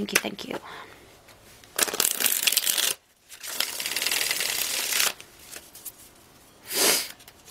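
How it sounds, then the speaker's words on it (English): Tarot cards are shuffled in several bursts of dense riffling, separated by brief pauses, close and fairly loud, with a short final flutter. "One more shuffle."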